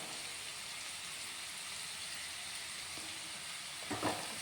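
Onions and chopped masala ingredients sautéing in a pan with salt, a faint, steady sizzle heard alone, ending in a brief stirring scrape.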